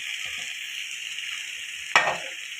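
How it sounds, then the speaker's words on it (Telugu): Boti, goat tripe, drops into a hot pan where ginger-garlic paste is frying, a steady close sizzle with a brief sharp hiss as the pieces hit, followed by continued frying, no talk. "ఇప్పుడు బోటి వేసుకోవాలి."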